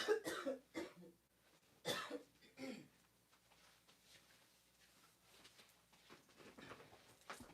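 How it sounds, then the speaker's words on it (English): A man coughs several times in sharp, close bursts with quiet gaps between them, ending in softer throat-clearing noises. "I got a cough."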